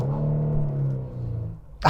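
A costly Korean coupe-style SUV sends out a steady, low engine and exhaust rumble at moderate loudness, holding evenly before a brief noise burst at the very end.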